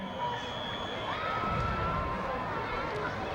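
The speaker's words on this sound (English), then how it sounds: "that crowd over on the far side of the field is getting pretty hyped up." A high school football crowd cheers from the far side of the field at a 1995 game between East Moline and Rock Island, Illinois. The crowd is a distant, diffuse roar that swells slightly midway and stays fairly faint.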